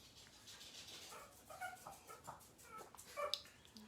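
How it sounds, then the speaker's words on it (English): A dog whimpers and yips in short, faint, high bursts somewhere in the room, a few soft cries scattered over a quiet background. "My dog is acting up."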